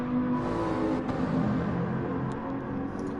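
A Ferrari race car driven by Senna in a racing video game, engine sound droning steadily and loud with sustained revving throughout, no talk over it.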